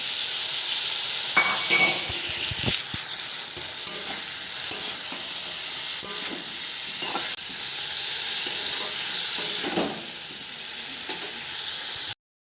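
Cauliflower sizzling and frying in a pan with green tomato, a steady close hiss with occasional stirring scrapes and light clinks, no voices.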